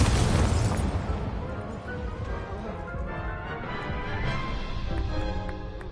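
An Incendio fire spell blast in the Hogwarts Legacy video game, opening with a loud roaring burst that settles into a sustained crackling, rumbling whoosh with faint tonal shimmer over several seconds.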